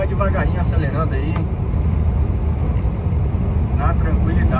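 A truck rolls along a road near Cuneo, Italy, its engine giving a steady low rumble as it slowly picks up speed. A voice talks over the engine noise inside the cab.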